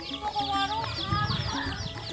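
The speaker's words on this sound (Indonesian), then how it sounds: "Ini ayamnya Pebi kan kawan" Backyard hens and their chicks cluck and chirp close by in a short, busy burst of overlapping calls.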